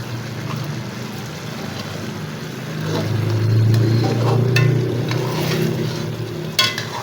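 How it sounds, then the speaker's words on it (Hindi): Chicken pulao being stirred gently at the sides of a pot as its water cooks off, a low steady simmer and bubbling with faint scraping and clinks of a spoon, close and continuous with no talk. "इसको थोड़ा थोड़ा बस साइड से हिलाएंगे।"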